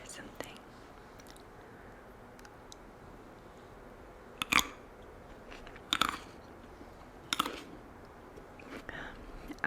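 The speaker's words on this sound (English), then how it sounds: "I must admit I like the crunching sound." Tropical fruit is bitten and chewed close to the microphone, giving a few sharp crunches spaced a second or so apart over quiet background rustle.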